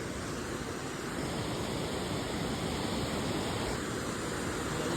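Water at the Palla dam, full after filling, gives a steady, loud rushing wash that runs without a break from start to finish, with no voices over it.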